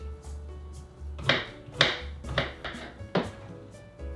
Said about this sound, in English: I'll cut it in small pieces